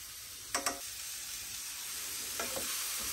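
Onions fry in a pan for a Moroccan fish tagine, a soft steady sizzle broken by two short scraping stirs near the start and two more toward the end, close and quiet.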